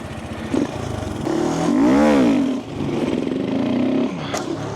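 A motorcycle engine revs up and down under practice wheelie throttle inputs, swelling to a sustained high-pitched peak in the middle before dropping back to a rough, steady drone.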